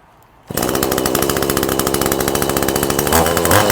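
A small two-stroke engine, with a digital tachometer clipped to its spark plug lead, starts abruptly after a moment of quiet and then runs loud and steady with a close, rattling buzz.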